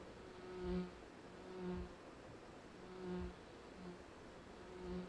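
Insects buzz continuously at a low hum, with a few louder swells as wasps fly close past a hare carcass, then drift away, in southwest Portugal.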